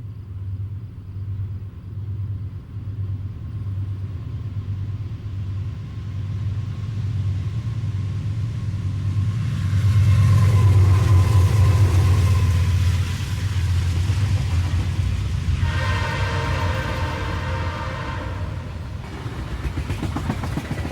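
A CSX eastbound freight train on the Magnolia Cut Off draws steadily nearer as a deep, swelling diesel rumble that peaks loudly, followed by a rising clatter of wheels and cars rolling past.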